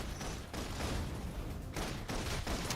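Sustained automatic gunfire from a suppression attack in the video game Love and Deepspace, a dense, loud barrage of rapid shots with brief dips in intensity.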